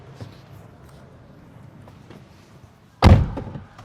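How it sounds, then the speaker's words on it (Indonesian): A Farizon SV electric van door swings shut with a single solid thud near the end, close and loud after quiet background handling noises. "Jadi ketika pintu ini ditutup,"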